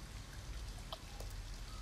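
Steady rain falls outside an abandoned house in the video game Detroit: Become Human, a dense, even patter and hiss with a few brighter drips standing out, with no talking.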